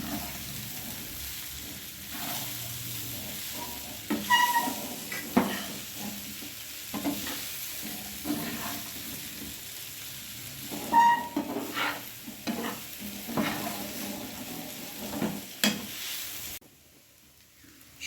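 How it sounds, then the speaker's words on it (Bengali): Flattened rice with vegetables, sugar and ghee is stirred in a pan, a continuous gentle sizzle with scraping and shuffling from the spoon, now busier, now calmer, going quiet at the end. "সবজির সঙ্গে চিড়েগুলো ভালোভাবে মিশিয়ে আমি 2-1 মিনিট নেড়ে নিলাম।"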